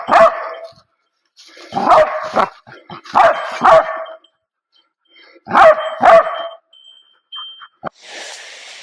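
A hunting dog on a wild boar hunt barks in short bursts of two or three loud barks, separated by pauses, with a brief rustling hiss at the end.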